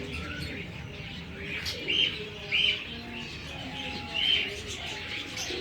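Soft pigeon calls from a female sitting on eggs, over a low, steady background hum, with three brighter chirps standing out at intervals; a faint cooing quality sits beneath.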